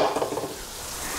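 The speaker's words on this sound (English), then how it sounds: "So melt down nice big chunk of butter." A big chunk of butter melting in a hot pan, giving a soft, steady sizzle with a few bubbling pops at first, close and moderately quiet with no talking.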